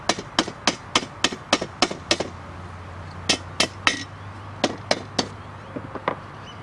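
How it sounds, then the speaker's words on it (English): Hammer taps on aluminum greenhouse frame pieces during assembly, a quick run of about eight sharp, close knocks followed by a few more spaced strikes and softer taps, with no talking. "with the hammer and it will go in very easily"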